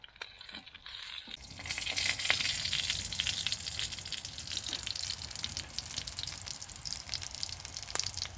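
Sausages sizzle in a pan inside a heated tipi tent, with a steady close crackling hiss that starts after a second and runs throughout. No one talks.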